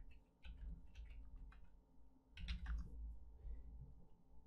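Keys clatter on a computer keyboard while a file name is typed, with a quick burst of taps, a pause, then a second denser flurry, close and fairly quiet, no talk.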